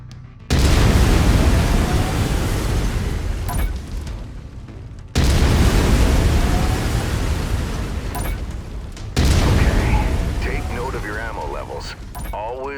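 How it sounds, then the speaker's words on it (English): Autocannon in MechWarrior 5: Mercenaries firing in three long, loud booming bursts, each a sustained roar that cuts off abruptly before the next begins. "I've mapped the autocannon to Weapon Group 1. You're free to fire whenever you're ready."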